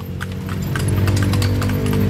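Horse hooves clip-clop in a steady rhythm as the horse pulls a kalesa through San Fernando, Pampanga, loud and close over a rumbling low hum of wheels and street.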